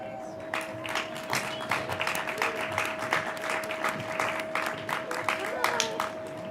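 An audience at a graduation ceremony claps steadily for a graduate walking to his seat, a dense ongoing patter of many hands with a constant tone humming underneath.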